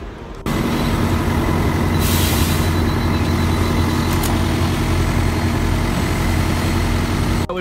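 London bus idling and rumbling at a stop, a loud steady diesel engine drone with a faint hiss partway through, continuous and close with no voices.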